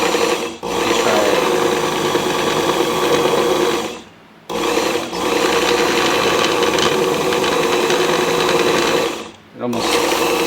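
A Work Sharp belt sharpener runs with a stropping belt, giving a loud steady motorized whir and grinding hiss that cuts out briefly twice as the machine pauses.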